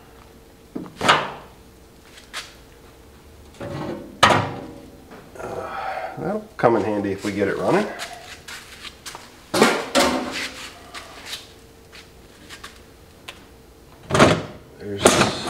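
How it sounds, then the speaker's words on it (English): Glove box door on an abandoned, long-neglected 1976 MG Midget being handled, giving several short knocks and clunks, with a busier stretch of rattling and scraping midway, all heard close up and mixed with people talking. "The glove box door."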